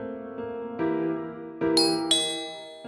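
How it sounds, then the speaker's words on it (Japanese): A home entrance intercom doorbell chime rings out in several bright, ringing tones, each struck note overlapping the last and fading slowly, with no other sounds. "今度は玄関のチャイムが鳴った。"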